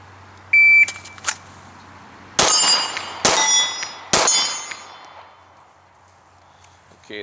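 Three sharp metallic rings from 9mm Glock 17 pistol shots striking steel targets, each loud clang decaying quickly, after two fainter clanks near the start.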